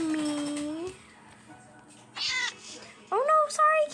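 Minecraft cats meowing inside a player-built island house: a long drawn-out meow near the start, then after a quiet gap a short mew and two quick rising meows close together, all clear and near.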